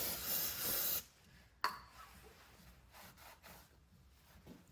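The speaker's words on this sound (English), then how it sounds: "Use brake cleaner to just clean it." Brake cleaner sprayed onto a bolt during maintenance of an Iseki TE4270 tractor: a steady, close hiss lasting about a second, then a sharp knock and quiet handling noises.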